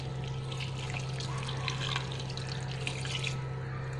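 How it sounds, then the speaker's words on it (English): Water poured into a pan of sweet potato ragda chaat, a steady trickling, splashing pour heard close over a low hum. "Now add in water"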